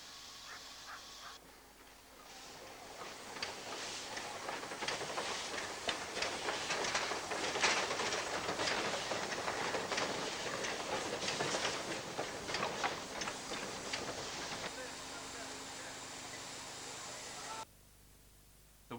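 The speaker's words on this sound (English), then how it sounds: "On the steep gradients, the engines sound like express trains at speed" A steam locomotive labours steadily up a steep gradient with a dense, rushing chuff and rattling, sustained for many seconds before cutting off abruptly.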